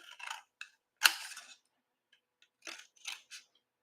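Scissors snip through paper along score lines for a pop-up petal treat box: a few short, crisp cuts spaced out in a quiet room, with one sharper, louder snip among them.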